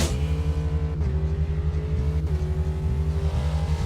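Race car engine in the sim racing game Automobilista 2, revving hard and continuously, close and loud, with two quick gear shifts breaking the rising pitch.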